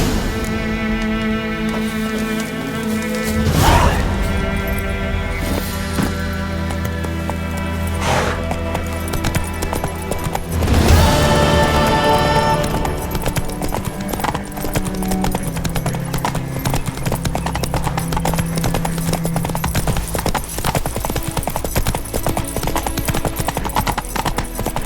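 Roach the horse gallops in The Witcher 3, steady rapid hoofbeats running throughout over a loud, full background of game music and ambience, with no talk.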